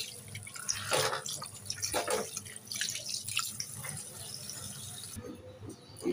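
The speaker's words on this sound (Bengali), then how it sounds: "ইলিশ মাছ কাটা শেষ, এবার আমি পরিষ্কার করে ধুয়ে নিচ্ছি।" Cut hilsa fish pieces being washed by hand under running tap water at a sink, a steady splashing stream with light rattles and drips of the fish being handled, fairly close and moderate in level.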